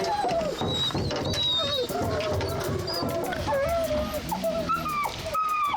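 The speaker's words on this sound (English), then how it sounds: "they're definitely barking more" Hunting hounds bark and yelp over and over in a busy outdoor scene during a black bear hunt in Wisconsin, with bird calls and other background noise running throughout.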